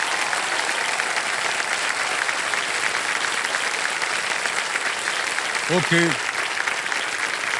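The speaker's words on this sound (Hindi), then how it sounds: "ऑलराइट, तालियां बज जाए इनके लिए।" Dense applause from a television quiz show studio audience, steady clapping throughout, with a brief spoken word from a man rising over it near the end.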